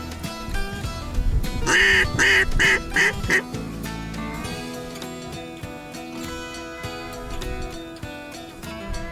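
Ducks quacking in a rapid series of loud calls during a winter mallard hunt in Washington, set against a dense musical background with a brief run of sharp bursts partway through.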